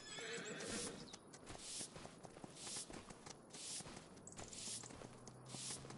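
Horses in a farm-life video game whinny loudly and repeatedly over steady clip-clop hoofbeats, with a continuous busy game soundscape underneath and no talking.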